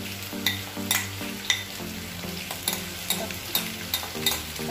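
Tomatoes cook in a dry pan with no oil for a mango fish curry, giving a steady sizzle and frying hiss with regular spoon scrapes and stirring knocks about once a second, close and moderately loud, with no talking.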